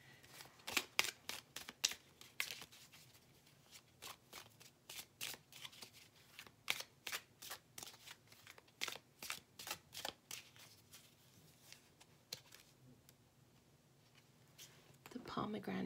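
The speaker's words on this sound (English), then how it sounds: "Thought I would pull some cards." A deck of playing cards is pulled and shuffled close by, with quiet, crisp riffling bursts that repeat in a quick, uneven rhythm while someone talks softly in a near whisper.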